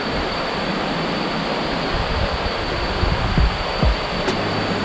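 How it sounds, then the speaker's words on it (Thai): The third tier of a waterfall in Narathiwat, Thailand, gives off a constant, even rushing of falling water, steady and unbroken, with no voices over it. "นี่น่าจะเป็นน้ำตกชั้นสามนะครับ"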